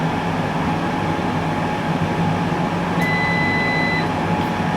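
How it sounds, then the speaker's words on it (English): An air fryer gives short electronic beeps as a chicken wing cook finishes, thin tones coming through partway in over steady, loud background noise. "So it's just beeping to say that the cook has ended."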